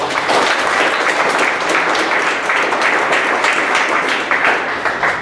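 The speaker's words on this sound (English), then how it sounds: "big round of applause to them." Steady, dense applause from a crowd at a school program's end-of-year wrap-up event, sustained and fairly loud throughout with no speech over it.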